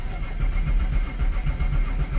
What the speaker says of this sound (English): We are getting cranking.